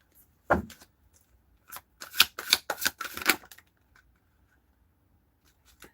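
Tarot cards are shuffled close by in a few quick riffling bursts, crisp papery flutters and taps with short quiet gaps between them.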